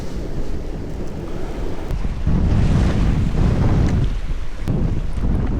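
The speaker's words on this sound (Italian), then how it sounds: "Ma il vento è troppo fastidioso per pescare in superficie." Strong wind roars across a rocky seashore while fishing, loud gusts buffeting the microphone over crashing surf, rising sharply partway through and staying heavy.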